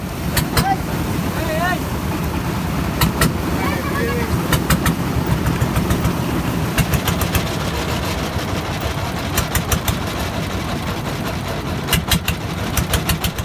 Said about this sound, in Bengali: বর্তমানে এখানে নৌকা এভাবেই পারাপার হচ্ছে